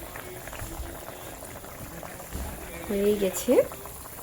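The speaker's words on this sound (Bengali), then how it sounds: "এটা কিছুক্ষণ জাস্ট হতে দেবো, একটুখানি জাস্ট ফুটবে" Pabda fish curry simmering in a pan, a soft continuous bubbling under a voice, with a few louder bubbles and stirring clinks near the end.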